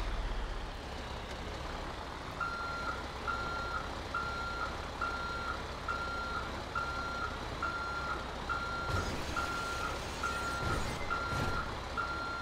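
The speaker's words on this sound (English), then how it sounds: "I should just back it straight on up" A Kenworth W900 truck in GTA 5 backs up with a flatbed trailer loaded with pipes, its reversing alarm beeping in a steady, evenly spaced series over a low engine rumble and road noise.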